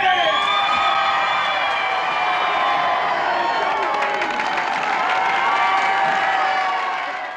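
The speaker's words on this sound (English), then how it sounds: "the crowd improvised most of their reactions in perfect sync to the unfolding drama" A large film crowd held behind barricades cheers, whoops and claps in a loud, dense, continuous roar of many voices throughout, easing off slightly at the end.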